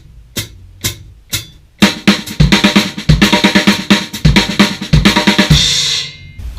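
A drum kit plays a right-left-left-kick lick in fast sixteenth notes after a few sparse opening hits, a dense, loud run of snare and tom strokes with kick thumps, ending in a ringing cymbal wash.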